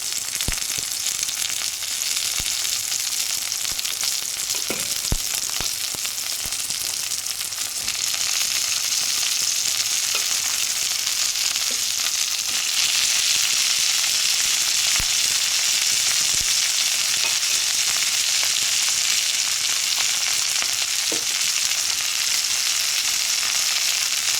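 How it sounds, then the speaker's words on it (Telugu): Capsicum pieces and four green chilies fry with egg in a pan, a loud, continuous sizzle that stays strong throughout, with occasional light knocks and a brief dip before growing denser. "నెక్స్ట్ క్యాప్సికమ్ ముక్కలు అనేది వేసేసుకుందాం. అలాగే ఒక 4 పచ్చిమిర్చి అండి."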